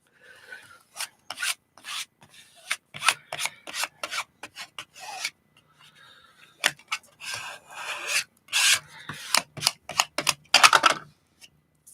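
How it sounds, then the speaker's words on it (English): A squeegee rasps and scrapes in quick, irregular strokes across an acrylic album surface, close and fairly quiet, with brief pauses between passes. "Smooth it out with my squeegee."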